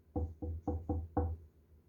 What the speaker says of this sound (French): Le loup arriva le premier et frappa doucement à la porte.